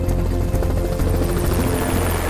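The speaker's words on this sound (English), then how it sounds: "So the helicopter's in the air" Helicopter flying overhead during a pronghorn capture in the wild, its rotor thudding in a loud, close, continuous rhythmic drone that fills the moment.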